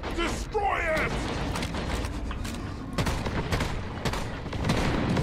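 Firearms fire in the cave-mining co-op video game Deep Rock Galactic, with dense rapid bursts of gunshots and mechanical clatter continuing throughout over a busy game mix.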